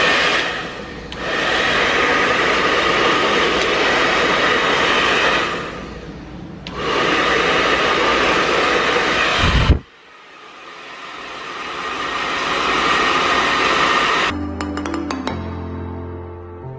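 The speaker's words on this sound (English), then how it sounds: "take my blow dryer and put it on a cool setting" A hair dryer on its cool setting blows loudly in long bursts, cutting off and restarting a few times, followed by a brief clatter of clinking objects.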